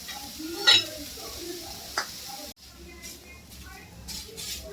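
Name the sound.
onion frying and being stirred in a pan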